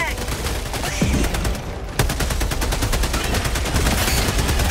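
Rapid automatic gunfire in the video game Helldivers 2, loud dense bursts of shots with a brief pause before firing resumes, under faint voices.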